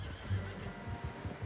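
A horse whinnies in a video game, a fairly quiet neigh followed by faint hoof sounds, with no speech over it.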